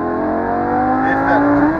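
A Lamborghini Gallardo LP560-4 accelerates with a steady, rising engine tone heard from inside the car, loud and continuous over a couple of seconds.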